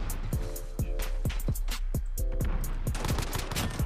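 Pistol gunshots in a 1v1 video game gunfight, a steady string of sharp, evenly spaced cracks, loud and close, firing roughly every quarter second.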